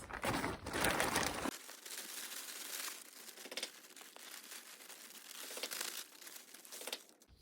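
Compost tipped and shaken out of the bottom of a plastic bag in a garden, giving a loud crinkling, rustling burst at the start, then steadier soft crunching, crackling and bag crumpling, close by, with no talking.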